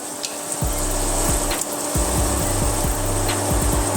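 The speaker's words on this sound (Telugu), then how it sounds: "Oil heat ఎక్కిందండి. సో నేను ఇందులో కొంచెం ఆవాలు, జీలకర్ర," Mustard seeds, cumin and dried red chillies crackle in hot oil for a spicy black pepper rasam, with steady sizzling broken by irregular pops and low thuds, close and fairly loud, with no talking.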